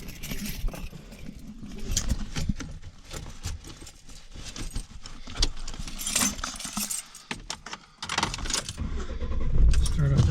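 Keys jangle with clicks and rustles inside a truck cab, and a rumbling engine turns over and idles toward the end.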